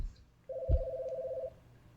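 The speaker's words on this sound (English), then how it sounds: "Somebody phone ringing out there." Telephone ring in the PC horror game God's Basement, a single steady electronic tone lasting about a second with a soft thump partway through, fairly quiet over a low background hum.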